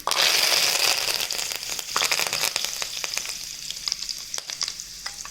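Curry leaves dropped into hot oil in a pan hiss into a loud, close sizzle that crackles and spits, then settles into a steadier, softer frying with scattered sharp pops and the scrape of stirring.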